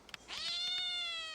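A cat in the video game A Space for the Unbound gives one drawn-out, high, bright meow close up, after a couple of faint soft taps.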